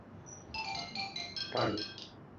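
Mobile phone ringtone chiming in a repeating series of bright electronic tones during an indoor yoga training session, with a voice briefly speaking partway through.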